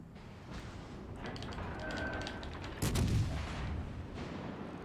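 Warship guns firing in the naval game World of Warships Legends, a booming salvo with a heavy thud over a continuous rumbling game soundscape, loud and close, no talking.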